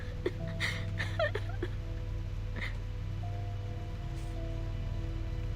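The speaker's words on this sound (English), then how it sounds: "Smoke rises into the sky and rain comes down." Rain falling over a burning town in the game Reverse: 1999, a steady patter with a low ambient hum beneath and a few faint tonal game sounds drifting through.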